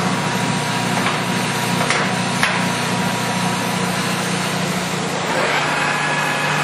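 A heavy-duty American lathe, 21.5 by 36 inch with a 20 horsepower main drive motor, turning at 157 RPM, producing a steady mechanical hum and drone throughout with a few faint knocks.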